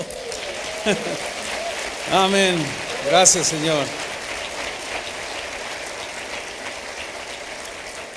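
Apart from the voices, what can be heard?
congregation applauding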